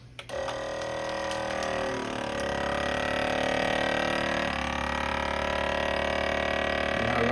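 A Kitchen Boss vacuum sealer running its dry vac cycle gives a steady motor hum and whine after a click at the start, droning on close and fairly quiet with no talk.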